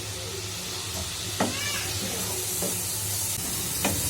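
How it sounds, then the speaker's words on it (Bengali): Spices fry in a pan for a bitter gourd curry, giving a constant close sizzle broken by a few sharp scraping stirs. "মশলাটা একটু ভাজা ভাজা করুন"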